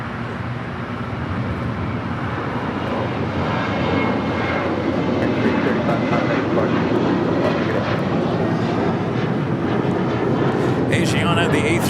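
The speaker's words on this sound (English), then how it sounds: "Asiana, the A380 coming in from Seoul, flight 202, next arrival on the north side." An Asiana Airbus A380 arriving at LAX from Seoul roars steadily overhead, a loud, broad jet rumble that builds slightly and holds for the whole stretch.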